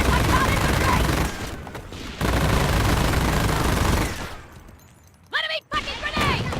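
Heavy gunfire and grenade blasts in the video game Company of Heroes: dense, loud rolling bursts that thin out toward the end, where a voice-like tonal call briefly cuts through.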